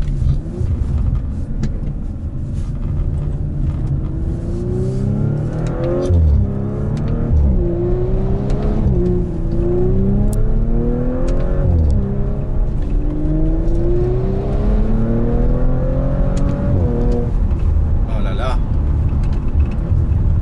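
A 2018 Audi RS5 with a turbo engine accelerating hard out of corners, its engine note rising in repeated sweeping pulls with gear changes, loud and continuous from inside the cabin, while someone talks over it.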